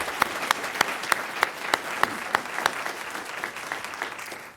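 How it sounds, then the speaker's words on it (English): Audience applause for a pastor who has just given the invocation at a Fayetteville city council meeting, a modest room of clapping with distinct individual claps standing out, steady through the clip and tapering at the end. "If we can give him a round of applause."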